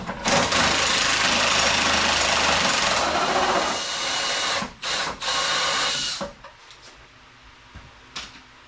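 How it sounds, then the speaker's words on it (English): An impact drill removing a bolt from a Chevy S10 whirs loudly and steadily for several seconds, then cuts out in short bursts before quieter mechanical clatter follows. "It is a drill that you impact."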